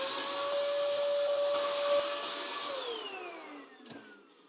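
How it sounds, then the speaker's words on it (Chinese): A vacuum cleaner cleans the inside of a Logitech G910 keyboard case, whining steadily and close, then its motor pitch slides down as it switches off and winds down. "经过吸尘器吸一下就干净多了"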